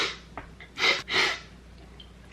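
Close, loud sniffles right into a podcast microphone, two strong breathy snorts with a few fainter breaths around them.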